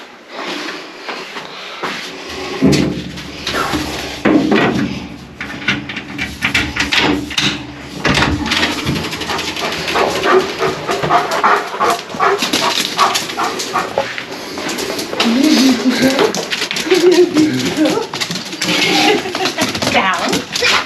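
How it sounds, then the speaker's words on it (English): Dogs let out of a door to greet their returning owner, whimpering and barking excitedly over shuffling, door noise and people speaking to them, close and busy throughout. "Let the dogs out."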